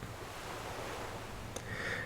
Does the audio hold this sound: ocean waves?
yes